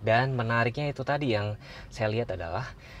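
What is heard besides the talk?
None of the usual background noises is heard.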